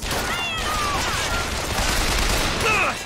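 Gunfire in the video game Bioshock Infinite, a dense continuous fusillade of shots with whistling streaks over it, steady and loud for the whole stretch.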